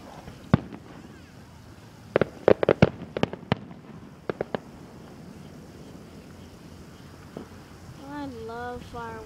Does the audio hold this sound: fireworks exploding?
yes